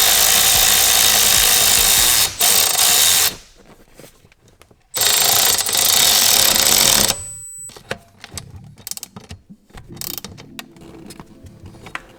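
A power tool tightening seat bracket bolts on a Mercedes 190e gives two loud sustained whirring bursts. Each ends abruptly and is followed by quieter clicks, clanks and handling noises in a workshop, with no speech.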